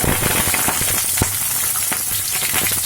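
Baby onions dropped into hot oil with whole fennel seeds sizzle loudly and steadily for a Malabar chicken curry, a dense close crackle with occasional sharper pops.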